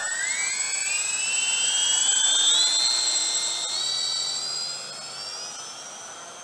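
A scratch-built model B-29 bomber flies overhead, its engines giving off a steady high whine that drifts in pitch as the plane passes and gradually fades into the distance.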